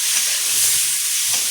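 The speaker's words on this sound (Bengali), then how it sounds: "ভাজা ভাজা করে নেব ওলটা।" Steamed elephant foot yam fries in a hot pan with a brief, bright hiss and a soft sizzle. No one speaks.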